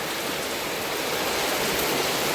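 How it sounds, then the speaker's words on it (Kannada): Continuous monsoon rain falls in Coorg as an even, dense hiss that holds steady throughout, fairly loud and close, with no speech. "ಬಟ್ ಸ್ಟಿಲ್ ಮಳೆ ಅಂತೂ ನಿಂತೇ ಇಲ್ಲ. ರಾತ್ರಿಯಿಂದ ಕಂಟಿನ್ಯೂಸ್ ಮಳೆ."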